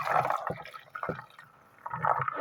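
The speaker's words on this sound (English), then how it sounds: "Now have some ice cubes ready in a glass and pour the liquid inside it." Cold brew coffee poured into a glass over ice, giving short gurgling, trickling bursts with a pause in the middle, close and fairly quiet.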